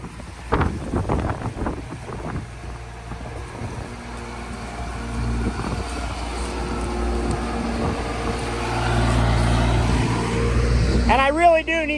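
A John Deere 8345R tractor drives past outdoors in Nebraska, its engine a steady low rumble that builds louder toward the end, with wind buffeting the microphone and people talking over it.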